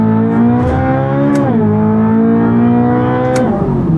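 Chevrolet Corvette C8 ZR1 engine revving loud and close past 8,000 RPM, a dense harmonic howl that climbs, dips briefly with a gear change, then rises again, with no voices.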